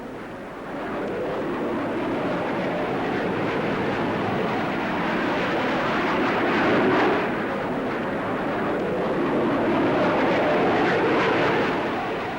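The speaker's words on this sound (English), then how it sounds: "Finally, to round off this great show, the Hawker Hunter." A Hawker Hunter jet flying at the Farnborough Airshow, its broad roaring engine noise sustained and loud throughout, swelling slightly as it passes, with no voices.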